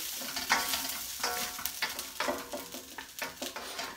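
Four-bean vegan chilli simmering and sizzling in a pan while being stirred, with soft scraping strokes and bubbling at close range, no talking.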